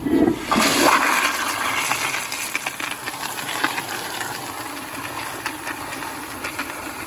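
A Sandbar-colored Kohler Wellcomme toilet flushes powerfully during a dirt test, a loud rushing surge of water that starts abruptly, then settles into a steady gurgling drain and bowl rinse, heard up close with no voices.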